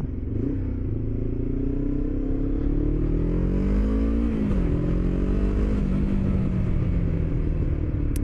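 Motorcycle engine revving up to overtake a tractor on a damp, rough road, a close rising-and-falling engine drone with shifting pitch over steady road and wind rumble, no voices.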